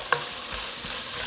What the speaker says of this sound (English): While your sausage sizzles away, you'll start to smell the delicious seasonings in that sausage.